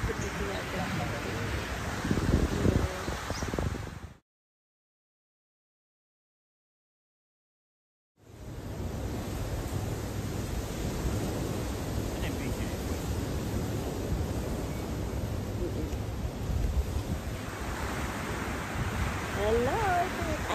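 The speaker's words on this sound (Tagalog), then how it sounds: "ito yung alon" Ocean surf washes steadily onto a beach at Boracay in a dense, unbroken hiss with wind, cut by a few seconds of total silence partway through before the rushing resumes.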